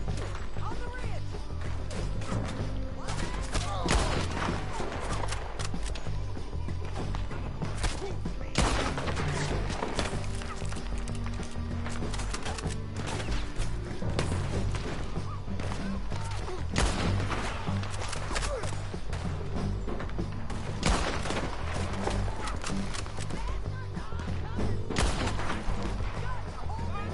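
Repeated gunfire in the Red Dead Redemption 2 video game, sharp shots cracking out irregularly over a busy game soundscape, with a player talking throughout.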